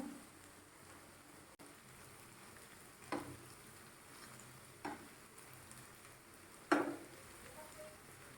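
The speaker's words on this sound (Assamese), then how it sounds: "আমাৰ এবাৰ ভাজিবলৈ 3 মিনিটমানকৈ লাগিব।" Crispy rice flour and semolina snacks fry in oil with a soft, low sizzle. Three or four louder bursts of bubbling and stirring rise briefly above the quiet background.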